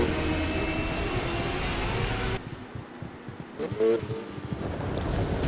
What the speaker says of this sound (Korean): 다음은 엑셀 키를 누르지 않고 터보를 썼을 때의 가속입니다.